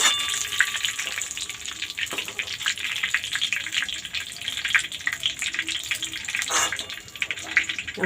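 Chicken pakora fries in hot oil at medium heat, giving a steady, dense sizzling hiss with bubbling crackles that carries on throughout, close and unbroken.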